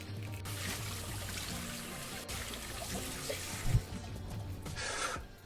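A roasted pepper rinsed under running water at a kitchen sink, with a soft steady trickle and wet rubbing as the skin is cleaned off, close and quiet, with a faint thump midway.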